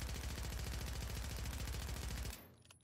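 Sustained automatic fire from an AMR9 submachine gun in the video game Warzone: a dense, loud, rapid stream of shots for over two seconds, then an abrupt stop leaving faint clicks.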